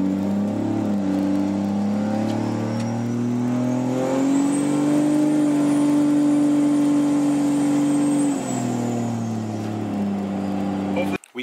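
A Cummins diesel truck drives up a street, its engine humming close and steady, with the revs climbing and holding for a few seconds before easing back down.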